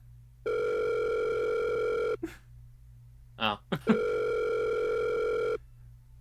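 A telephone rings during a game session with two long, steady electronic ring tones, loud and even, separated by a pause in which a voice briefly exclaims.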